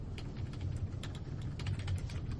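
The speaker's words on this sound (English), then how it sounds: "So we'll go ahead and type this here." Quiet clicking of keys on a computer keyboard, a steady run of light taps at a faint level, with a low room hum underneath and no talking.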